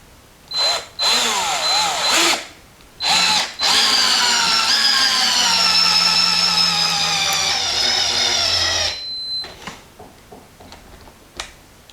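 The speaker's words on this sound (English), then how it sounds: "we're going to use the drill driver with the appropriate bit and show you how it works" A Black & Decker BDCI20C 20-volt cordless impact driver whirs steadily driving a bolt for several seconds after a few short trigger bursts, then winds down, followed by faint clicks.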